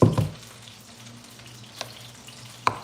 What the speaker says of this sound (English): I am deep frying turkey.